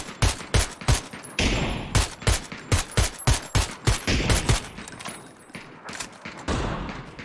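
Gunfire shooting down fences in the video game PUBG, a rapid rhythmic volley of loud close shots with heavy thumps, about a dozen blasts in quick succession before tapering into scattered noise.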